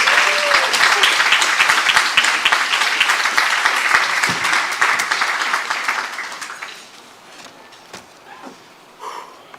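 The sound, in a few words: audience applauding a Hall of Fame inductee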